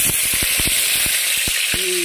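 Onion and meat hit hot oil in a kadai, a loud, close, steady sizzle broken by crackling pops, with a short tonal hum at the end.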